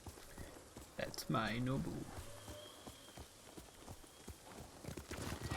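A horse's hooves clip-clop steadily in Ghost of Tsushima, a regular beat of close thuds running under a voice speaking to the horse.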